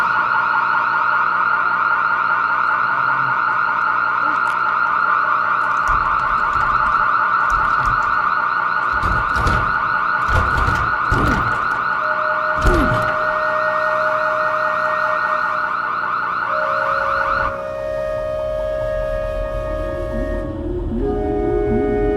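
A loud, steady alarm tone blares in a movie scene as people get stuck between double doors, holding one pitch for about seventeen seconds with sharp bangs and thumps in the middle, then switching to a different, fainter tone.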